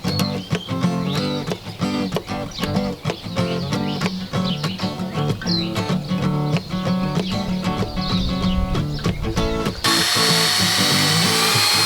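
A power drill boring into an old steel gas bottle to fit a hinge, a rapid, rattling whir in short bursts that stops near the end, leaving faint background noise.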